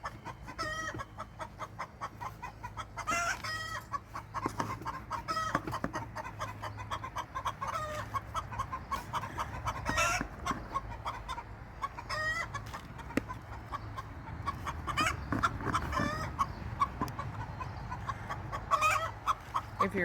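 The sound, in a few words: hens clucking and squabbling over laying eggs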